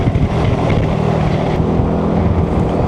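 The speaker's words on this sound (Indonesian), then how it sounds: "Anginnya." Steady, loud wind rush buffeting the microphone while riding a Yamaha NMAX Turbo scooter-style motorcycle, a broad continuous roar with low engine rumble beneath, no talking.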